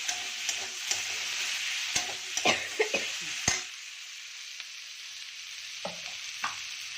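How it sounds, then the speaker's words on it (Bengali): Onion, green chili and potato frying in a pan: a bright steady sizzle with clustered stirring knocks, then the sizzle drops away to quiet, sparse taps. No voices. "আমি পেঁয়াজ, কাঁচা লঙ্কা আর আলুটাকে একটু লাল লাল করে ভেজে নেব।"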